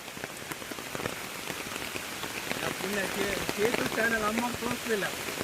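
Heavy rain pours steadily at Goyar Falls, a hidden waterfall near Karwar, a dense broadband hiss of drops striking surfaces that grows louder in the second half, with a voice talking over it.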